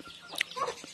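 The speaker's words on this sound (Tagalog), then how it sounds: "Ito yung mga tinatawag na mga bisayang manok." Native Bisaya chickens cluck softly nearby, a few short clucks and squawks over quiet background.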